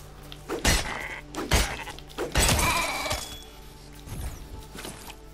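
Sheep bleat in the video game Fortnite Lego, a few short cries mixed with sharp thunks and breaking impacts, moderately loud over a quiet game background.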